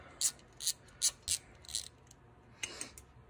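A small hand ratchet clicks in short bursts while loosening wheel hub screws on a 2012 Ford Fusion, with about six quick, close ratcheting pulses and brief pauses between them.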